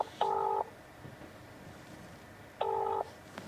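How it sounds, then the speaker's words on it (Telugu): Two short bursts of phone keypad dialing tones, each a steady beep lasting about half a second, separated by a quiet pause, with no voices. "ఫోన్ చేద్దాం ఒకసారి"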